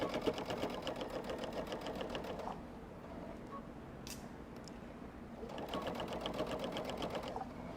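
Sewing machine stitching through a quilt with pre-printed batting at a longer-than-usual stitch length, running in steady rapid bursts near the start and end with a quieter pause between.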